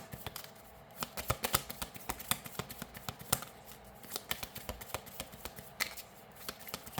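Tarot-style cards shuffled by hand during an intuitive guidance reading, producing a close, steady run of crisp riffling clicks and soft flutters for several seconds with no voices.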